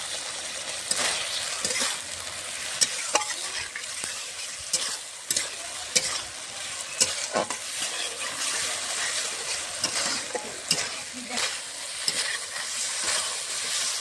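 Pointed gourd fries in a pan with mustard and poppy seed paste and is stirred: a steady, close sizzle with frequent scraping and clattering strokes of a spatula throughout.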